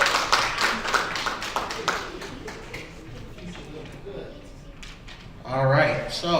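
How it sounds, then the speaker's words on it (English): Audience applause at a community gathering, a dense patter of claps that fades over several seconds while voices talk over it, then a louder swell near the end. "Let's give them one more round of applause."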